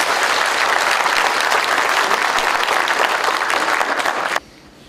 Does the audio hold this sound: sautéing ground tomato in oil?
no